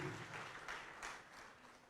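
A church congregation applauds together, a soft, steady wash of clapping at a distance with a few louder swells, no voices over it.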